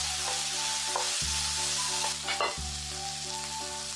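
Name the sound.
stir-frying shishito peppers and carrots in garlic oil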